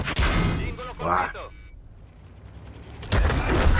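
Heavy booming blasts of artillery fire in a World of Tanks battle, loud and close, with a voice talking over the first part.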